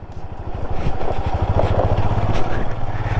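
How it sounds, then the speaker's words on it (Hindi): Motorcycle riding through a water crossing on a mountain road between Nubra Valley and Pangong Lake in Ladakh, a loud close engine thrum with sloshing water and wind noise, with voices talking over it. "मुंह से निकालते ही वाटर क्रॉसिंग आ गई"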